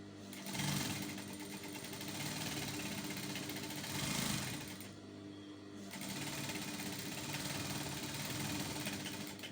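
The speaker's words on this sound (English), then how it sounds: "I'm going to just raise the machine foot, turn over like this, and sew across the pocket bags" A sewing machine stitching across fabric pocket bags on a dress, its rapid motor whir running in three steady bursts with a short pause between them, close and clear.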